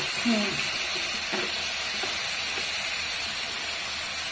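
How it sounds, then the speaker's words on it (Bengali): Spices frying in oil in a pan in a village home kitchen give a steady, close sizzling hiss throughout, with a few faint stirring scrapes near the start. "এই যে ওইটা মশলা দিয়ে ভেজে নিব, হালকা কষাই দিয়ে নিই।"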